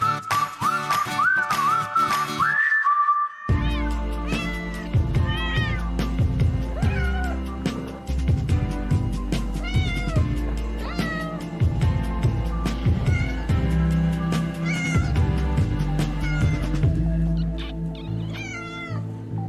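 Many cats meow and yowl at an international cat show in an exhibition hall, the calls loud, close and overlapping in a busy, continuous stream over music-like background sound.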